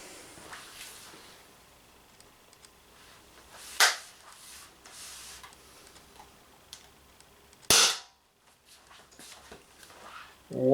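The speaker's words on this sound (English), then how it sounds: "12 shots fired." An Umarex TP50 Compact 7 Joule air pistol loaded with aluminium balls fires two sharp, dry snaps several seconds apart, near and fairly loud above a quiet background with faint ticks.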